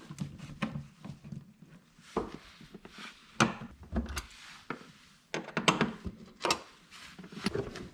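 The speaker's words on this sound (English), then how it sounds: "I want to grab a Phillips and just take these bolts out, or these screws" A Phillips screwdriver backs screws out of a car panel on a Subaru STI during a fuel pump install, giving close, intermittent clicks, creaks and scraping taps with short pauses between them and no talking.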